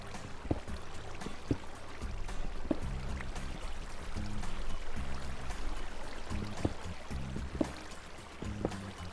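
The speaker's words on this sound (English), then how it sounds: "now the water is going to flow down from there onto this level" Flowing water in the Minecraft video game, heard as a steady, moderately loud watery rush with a low droning undertone and scattered sharp clicks throughout, with no voices.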